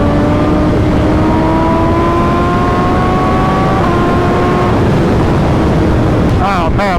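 A motorcycle engine drones with a steady, slightly rising pitch under heavy wind rush, loud and close, before easing off near the end.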